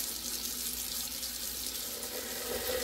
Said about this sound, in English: I'm going to fill up this gallon bucket with hot water